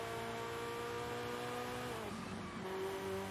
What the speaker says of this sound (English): I come in way too fast and slide the car around